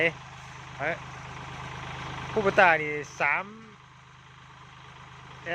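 A Kubota L3608 farm tractor idles with a steady, low diesel rumble close by, while someone speaks in short bursts over the engine.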